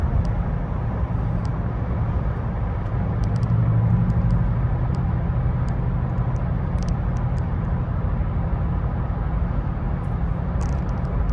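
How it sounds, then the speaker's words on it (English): A 1990 Mercedes-Benz 420SEL with original tires cruises down a road, a steady low rumble of engine and road noise continuing evenly throughout with no one talking. "Car tracks nicely down the road."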